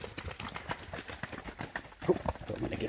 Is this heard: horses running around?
yes